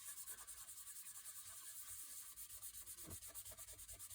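Fine 400-grit sandpaper rubbing over a plastic pool table rail, a soft, even hiss with rhythmic back-and-forth strokes, quiet and close with no voices.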